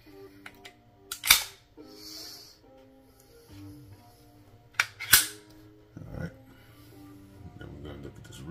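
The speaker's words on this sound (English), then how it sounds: "Unless you drop the slide, then we'll pull the trigger." A Smith & Wesson M&P 5.7 pistol trigger is pulled and reset, giving two sharp, close mechanical snaps several seconds apart, with quieter handling clicks and someone talking in between.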